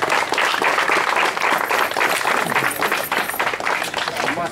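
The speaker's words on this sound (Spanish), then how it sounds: "Un fuerte aplauso para todos ustedes." Loud, steady crowd applause fills the whole stretch at a municipal ceremony handing out uniforms to football teams before a championship, dense clapping without pause from start to finish.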